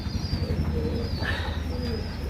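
Pigeons coo in a flying shed on a rainy day, several soft, low, rolling coos overlapping close by, with a few thin chirps above them.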